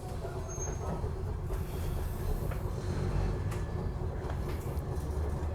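The Fremantle Municipal Tram runs through Whiteman Park, giving a continuous low rumble of wheels and motor with faint rattles, heard steadily from on board with no talking.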